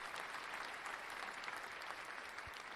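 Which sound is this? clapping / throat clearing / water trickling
clapping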